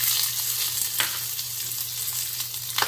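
Sliced onions fry in hot oil in a pan, giving a steady, close sizzle and soft crackle with a low hum underneath and no voices.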